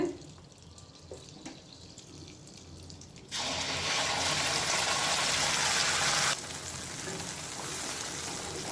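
Sizzling of spices frying in hot oil for egg curry, a loud burst of crackling hiss in the middle that settles to a softer steady sizzle.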